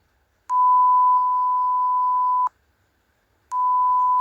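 A steady electronic censor beep from CapCut's sound effects, a pure mid-pitched tone held for two seconds, a second of silence, then sounding again, loud and alone.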